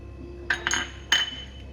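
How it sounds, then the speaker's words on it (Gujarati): A spoon stirs farali khandvi batter in a bowl, giving a few quick, close clinks and scrapes against the bowl over a faint background hum. "હવે એને આપણે આ રીતે સરખી રીતે મિક્સ કરી દઈશું"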